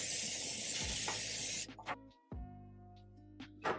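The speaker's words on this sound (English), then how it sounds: "I'm gonna use this bacon spray to spray our pan with" Bacon-flavored cooking spray hisses onto a baking pan in one loud, close burst lasting over a second and a half, then cuts off, leaving quieter kitchen clatter.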